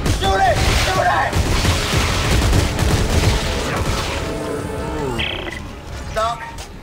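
Rapid gunfire in the video game Dead Space 3 rattles in dense bursts under excited shouting voices, with booming creature and combat effects layered throughout.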